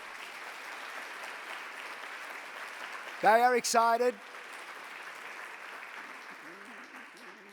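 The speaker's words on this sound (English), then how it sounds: "give them a round of applause" Audience at a World Cancer Congress opening ceremony applauding, a soft, steady patter of clapping in the hall, briefly interrupted by someone speaking over it before the applause carries on.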